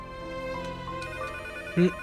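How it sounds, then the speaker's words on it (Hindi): A phone ringtone plays in short repeating melodic tones, fairly quiet, with a brief louder burst near the end. "फोन बज रहा है,"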